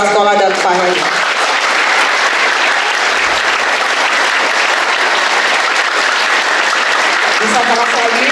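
A school audience bursts into loud, sustained applause, dense clapping from many hands filling the room with no pause, a voice heard briefly at the very start and end.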